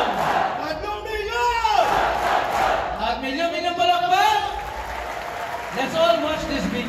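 A large crowd at an evening gathering in Antipolo cheers and applauds loudly and continuously, with a voice shouting over the roar.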